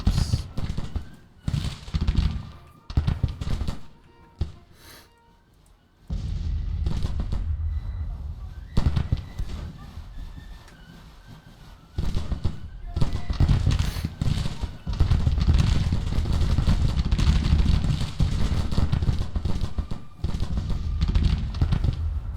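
Artillery fire in the Civil War strategy game Grand Tactician rolls out as irregular booming volleys with crackling bursts, separated by brief lulls, loud and layered like distant cannon batteries firing at will.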